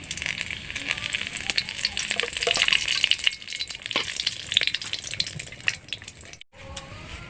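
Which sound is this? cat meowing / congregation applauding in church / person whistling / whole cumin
whole cumin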